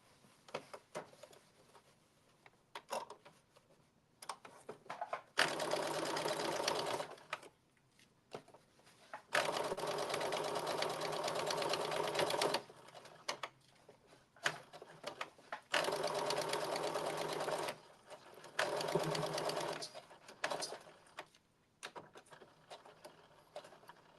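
A sewing machine stitches a long blazer seam in several sustained bursts of rapid mechanical whirring, close and steady, separated by short quiet pauses with faint handling noise.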